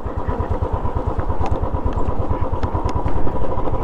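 Motorcycle engine running steadily as the bike is eased through a rough, wet mountain patch of stones and snowmelt water on a Spiti ride between Losar and Manali, loud and close with a throbbing rumble and occasional clatter.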